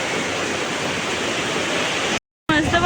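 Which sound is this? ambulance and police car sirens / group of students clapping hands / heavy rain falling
heavy rain falling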